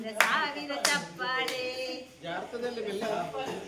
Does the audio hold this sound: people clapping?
yes